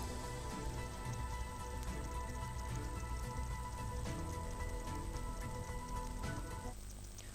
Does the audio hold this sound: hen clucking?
no